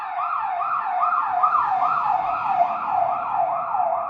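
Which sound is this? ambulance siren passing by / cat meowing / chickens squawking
ambulance siren passing by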